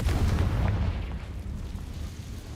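A Confringo fire spell bursting in the video game Hogwarts Legacy, a loud low booming blast at the start that rumbles and fades away.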